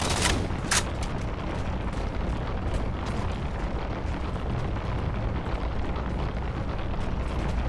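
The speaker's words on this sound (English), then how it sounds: "Throwing grenades, I don't know where my grenades are going." Halo 4 combat with grenade explosions and gunfire booming in a dense, continuous loud wash, with two sharp blasts standing out near the start.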